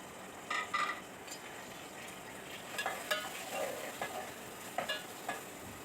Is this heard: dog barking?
no